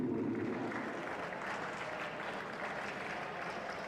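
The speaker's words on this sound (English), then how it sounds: "That's now the time where you clap your hands." A crowd applauds the women's lead climbing medalists at a competition ceremony in Ostermundigen, a continuous wash of clapping that stays even and fills the space from start to finish.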